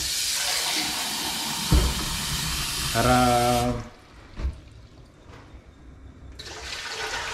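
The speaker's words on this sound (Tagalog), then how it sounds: "ilagyan na natin ng tubig itong kaldero" Water from a tap runs into a cooking pot as a shrimp sinigang is started, a steady rushing pour that rises in pitch as the pot fills, then cuts off, followed by a few clanks and a brief hiss.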